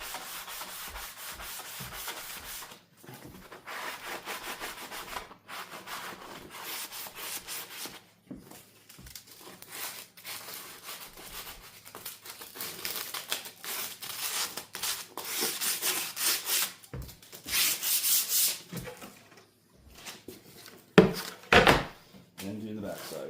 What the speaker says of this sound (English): There use some folded up sandpaper or the sponge.